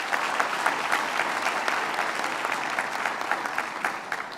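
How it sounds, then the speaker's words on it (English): A large audience at a university graduation ceremony claps in dense, sustained applause, steady and moderately loud throughout, with scattered sharper claps standing out from the crowd. "So give them a round of applause, colleagues."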